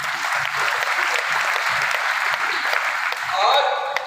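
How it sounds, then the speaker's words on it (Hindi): Audience applause in a large hall at a business seminar, steady dense clapping that swells slightly toward the end, with no voices over it. "तालियां बजा दीजिए"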